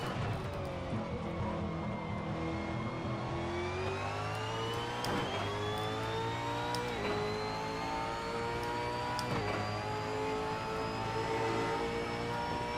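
A 2018 V8 Supercar in Assetto Corsa revs loud and close, the engine note climbing steadily through third gear with brief dips at each shift, steady and unbroken with no talking.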